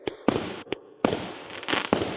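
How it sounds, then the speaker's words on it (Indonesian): Fireworks exploding in the night sky, with about five sharp bursts in irregular succession, each followed by a crackling, fading tail, and no one speaking. "Itu adalah jenis kembang api."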